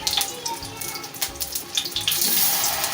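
Potato tikki fry in hot oil, giving a steady, close sizzle with crackling bursts that grow denser and louder toward the end.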